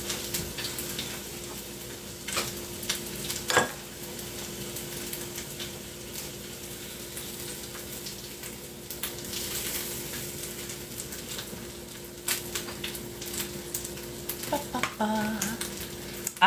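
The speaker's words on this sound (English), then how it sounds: "I am making onigiri. I'm frying one up right now." An onigiri rice ball fries in a pan, giving a steady low sizzle with occasional sharper clicks and scrapes from stirring or nudging, moderately close and continuous throughout.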